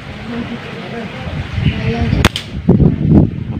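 A single sharp air rifle shot firing a Crosman Premier Ultra Magnum pellet through a Sharp Tiger, a crisp close crack standing out against a background of ongoing talk and room noise.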